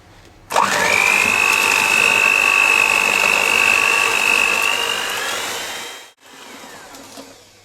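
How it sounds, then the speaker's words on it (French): An electric hand mixer whips sugar, eggs and vanilla, switching on abruptly with a loud, steady high-pitched motor whine that holds for about five seconds, dips slightly, then cuts off, followed by a brief quiet beat. "avec notre batteur électrique, nous allons faire mousser le mélange donc sucre, œuf et donc la vanille"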